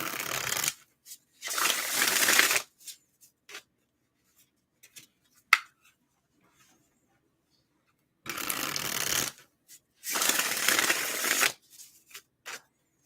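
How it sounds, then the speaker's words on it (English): Tarot cards being shuffled in several quick riffling bursts, close to the mic, with short quiet gaps and a few light taps between them. "One more shuffle should do it."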